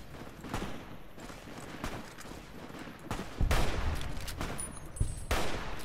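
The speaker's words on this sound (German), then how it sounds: "Ich habe eine Waffe aus der Hand geschossen." Gunfire from the video game Fallout New Vegas, a handful of sharp shot bursts scattered over steady game ambience, with the loudest cracks near the end.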